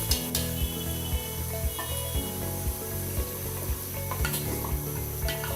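Beef pieces hit a pan of sizzling spice masala, with a constant frying hiss, scraping stirs and soft rhythmic thuds of a spatula over a low steady drone, no talking.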